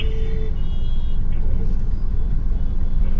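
Dense street traffic jam: a continuous close roar of idling and creeping cars, buses and trucks with a brief horn-like tone near the start, no clear speech.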